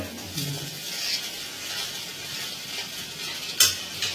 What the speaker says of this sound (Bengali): তো আমি নাড়তে পারছি না এত ছোট ছোট করার জন্যে তো সেই জন্য ও নেড়ে দিচ্ছে